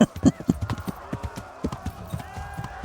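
A horse gallops in Kingdom Come: Deliverance, its hooves thudding in quick, close, rhythmic beats while a voice speaks over them.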